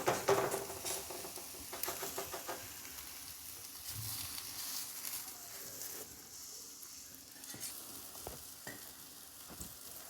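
Oil poured around the edges of radish thalipeeth in a pan crackles and sizzles softly, with a few scraping stirs and light clicks, fairly faint and steady without talk.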